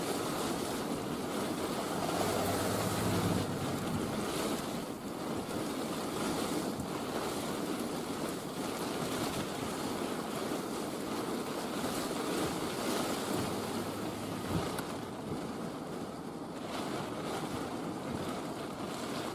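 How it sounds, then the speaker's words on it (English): Strong wind during a severe tornado-warned storm in Nebraska roars steadily and loudly, buffeting the microphone in continuous gusts, with no talking. "Just see how strong that wind is."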